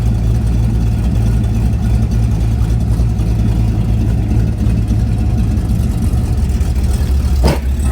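Pontiac Trans Am V8 running with a lost muffler and header exhaust collector, a loud, steady, deep exhaust drone throughout with a brief sharp burst near the end.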